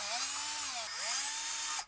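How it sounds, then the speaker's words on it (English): A cordless power drill driving screws back into a Whirlpool refrigerator's evaporator housing, two short whirring runs with rising and falling motor pitch, close and clear, with no one talking. "And we'll just put these screws back in."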